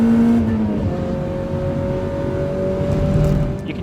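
A race car held hard on the throttle at the Phillip Island Grand Prix circuit, a loud, steady engine whine climbing in pitch through the gears, close and continuous, with no voices.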